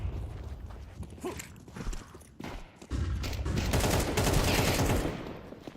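Pistol fire in a collegiate video game match during an eco round, with scattered sharp shots and footsteps that build into a denser burst of rapid gunfire in the second half.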